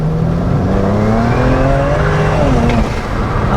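A modified $1,000 BMW 335i accelerates hard, its engine note rising steadily and loudly close by, with a brief blow-off or turbo flutter near the end.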